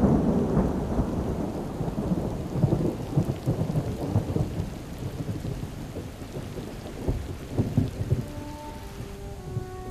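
A thunderstorm on the African plains, with steady loud rain pattering on the ground and repeated rolls and rumbles of thunder, heard alone without voices.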